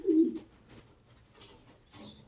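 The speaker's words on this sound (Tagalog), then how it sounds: "So nakuha ko tong ibon na to kay Mr. Jaime Lim." A pigeon of Janssen racing stock gives one soft, close coo at the start, followed by quieter faint cooing murmurs in an otherwise hushed space.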